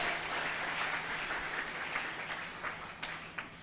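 A church congregation applauding during an Easter Sunday service, a steady wash of clapping that stays fairly soft and distant, with a few sharper individual claps near the end.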